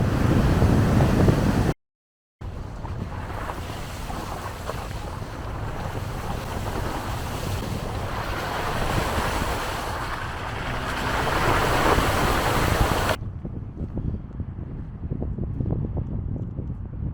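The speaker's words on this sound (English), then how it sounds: "So here's the waterfall that was definitely not easily accessible during winter." An Icelandic waterfall in winter roars with a steady, dense rush, mixed with wind buffeting the microphone. The sound cuts out briefly near the start and turns quieter and thinner toward the end.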